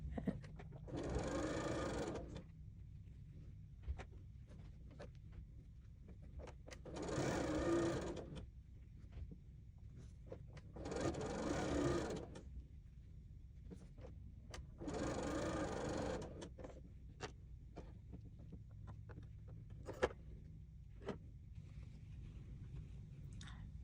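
A sewing machine stitches quilt pieces, joining half square triangle units into parallelograms for a whirlpool block, running in four steady bursts of a few seconds each with quiet pauses between, close and clear with no talking.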